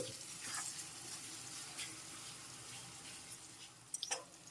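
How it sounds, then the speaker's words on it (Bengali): Tomatoes with salt are stirred and fried in a pan, making a steady, faint sizzling hiss throughout, with a few soft scraping sounds from stirring near the end and no voice. "এখন আরও একটু নেড়ে চেড়ে ফ্রাই করে নিচ্ছি"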